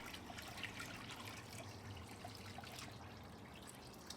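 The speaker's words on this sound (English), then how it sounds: "I'll be topping it off with additional water" Hot water trickles and splashes steadily into the water bowl of a Weber Smokey Mountain smoker, a faint, continuous pour heard close with no talking.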